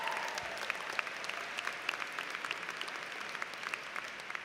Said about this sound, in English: Can I get a little applause there?